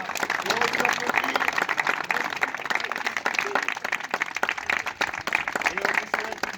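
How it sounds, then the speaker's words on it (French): An audience claps at the end of an improvised stage performance, a continuous wash of applause with a few voices and stray sounds mingled beneath it. "Et on vous applaudit."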